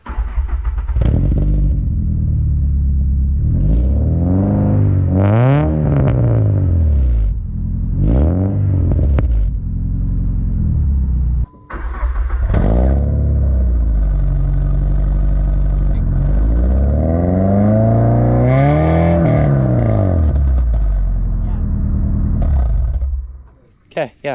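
Car engine heard from a drive, loud and close, revving up and down in repeated acceleration surges with shifts between them, a brief cut midway, and a voice talking over parts of it.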